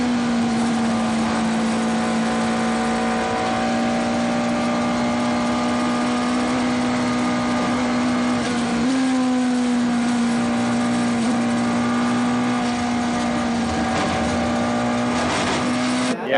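A Porsche race car at the 24 Hours of Le Mans, a steady sustained engine drone holding a near-constant pitch with a brief shift midway, loud and continuous without speech.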